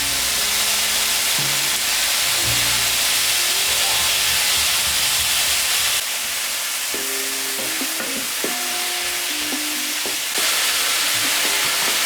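Six or seven bacon slices fry loudly in a pan for a Japanese gyudon-style dish, a dense continuous sizzle and hiss with low hum and tonal rumbles underneath, close and sustained.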